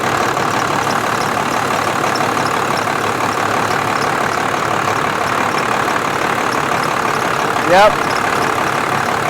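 A Dodge truck idles in a steady, loud mid-range drone while its AC compressor cycles. A brief tonal sweep rises near the end, and a short spoken word sits briefly over the running engine.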